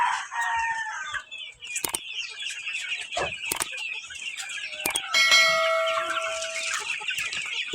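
Hens, roosters and chicks on a range cluck and cheep busily at feeding time, close and continuous, with sharp knocks and a ringing metallic clang mixed in.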